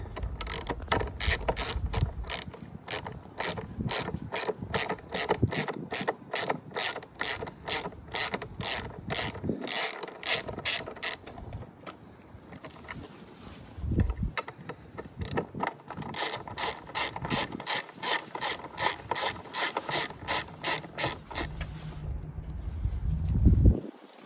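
Ratchet clicks from removing the seat bolts of a Yamaha YZF-R7 motorcycle with a 5mm Allen key: fast, close, rhythmic clicking runs, broken by short pauses and light handling noises.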